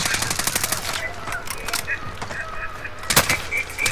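Rapid automatic gunfire in Call of Duty Cold War Warzone, loud bursts of repeated shots with a sharp volley near the end, with a voice talking over the game.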